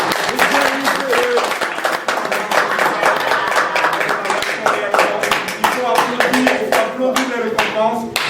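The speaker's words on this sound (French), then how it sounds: "Nous là, on va applaudir s'il vous plaît parce que c'est important." An audience applauds at a live African music event in Paris, with dense clapping running the whole time beneath a loud voice speaking over it.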